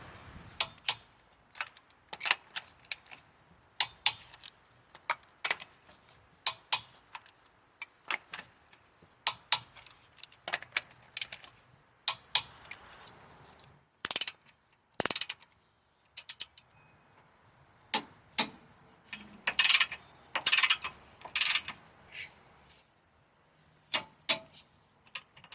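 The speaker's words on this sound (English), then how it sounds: "Now we can torque the rear lower control arm bolt to 50 foot-pounds." A clicking torque wrench tightens bolts on a car's rear lower control arm, producing sharp, scattered ratchet clicks and snaps nearby, some in quick clusters, with quiet gaps between.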